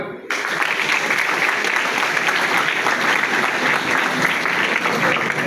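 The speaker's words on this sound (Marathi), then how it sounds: "सगळ्यांनी ज्यात चांगलेले टीचर्स आहेत आणि तुम्हाला सपोर्ट करतात त्यांच्यासाठी टाळ्या द्या" Students in a hall give their teachers loud, sustained applause after a brief quiet moment, the clapping a dense, even roar that continues to the end without any speech over it.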